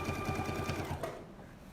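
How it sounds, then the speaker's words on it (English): A sewing machine runs steadily, stitching through a quilted hexagon table topper, its rapid needle rhythm close and continuous before slowing to a stop near the end. "I'm stitching in and I'm stitching out."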